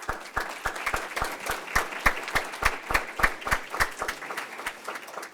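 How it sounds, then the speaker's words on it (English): Sparse, scattered clapping from a small audience at a school board meeting, distinct individual claps at an uneven rhythm, fairly quiet, with no talk over it. "We can clap for her."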